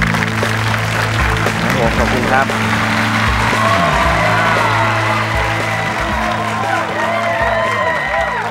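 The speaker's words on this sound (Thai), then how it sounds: "ขอเสียงปรบมือนะครับให้กับเจ้าของนวัตกรรมนะครับน้ำพุ3มิติ" Audience at the True Innovation Awards clapping and cheering for the owner of a 3D fountain innovation, loud sustained applause with whoops while someone speaks over it.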